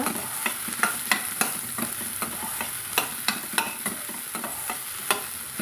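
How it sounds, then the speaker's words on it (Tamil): Chopped ridge gourd sautés in hot oil as a spoon stirs it, a steady sizzle broken by regular scraping clinks of the utensil against the pan, close and continuous. "இப்போ வெட்டி வச்சுக்கிற பீக்காயை சேர்த்துக்கிறேங்க சேர்த்து நல்லா எண்ணெயில் வதக்கி விட்டுக்கலாங்க"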